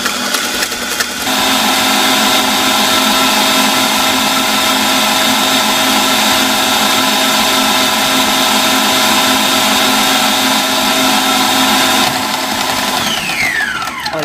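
Electric mixer at medium speed beating chocolate sponge cake batter, a loud steady motor whine that starts abruptly, holds evenly for about eleven seconds and then winds down.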